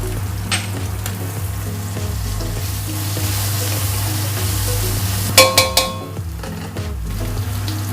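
Garlic and onions fry in a hot wok at the start of a pork chop and tomato stew, giving a loud, steady sizzle throughout, with a quick run of metallic clanks from a utensil against the wok near the end.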